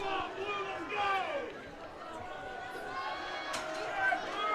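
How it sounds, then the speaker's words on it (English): Crowd at a 2024 WIAA high school football game, Wittenberg-Birnamwood at Amherst: steady murmur and scattered cheering voices swelling slightly, heard from a distance with an announcer talking over it. "Crowd starting to get into it a little bit more."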